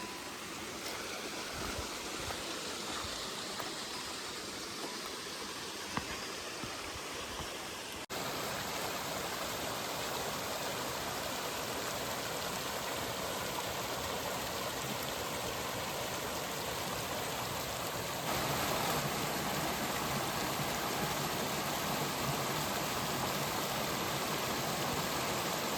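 A forest stream on the Everest Base Camp trek between Ringmu and Nunthala in Nepal rushes and splashes in a constant, full roar, close and loud, with no talking throughout.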